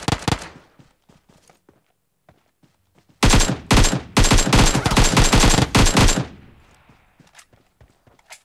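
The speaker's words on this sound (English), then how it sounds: "I hear shooting" Automatic gunfire in Call of Duty Black Ops 4 Blackout: a few scattered taps, then a loud, close run of rapid bursts for about three seconds before it cuts off into quiet.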